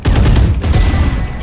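Rapid gunfire in a video game shooter, a dense loud burst of overlapping shots and booms filling the whole moment, with a brief voice mixed in.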